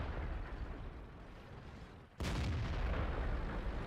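A tank's main gun fires once in a tank battle game, a sudden loud blast cutting in partway through a low rumbling engine background and leaving a sustained roar afterward.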